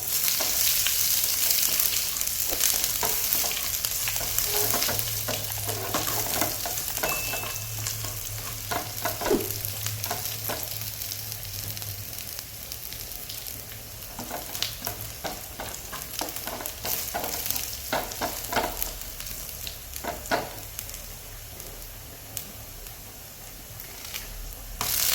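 Spices for Kerala sambar frying in hot oil, a continuous crackling sizzle with occasional spoon scrapes and stirs against the pan, close and moderately quiet with no talk.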